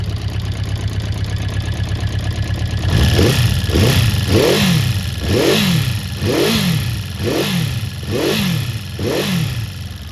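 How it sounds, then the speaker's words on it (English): A Honda CB400 Four motorcycle engine under restoration runs steadily, then revs in a rhythmic series of throttle blips, with a faint clicky ticking running through the mechanical noise. "Yeah, so it's running all right. It's still a little bit clicky, that engine."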